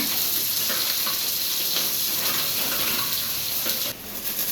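Chopped onions fry in a pan for mushroom masala, a loud, continuous close-up sizzle with a slight dip near the end, with no voices.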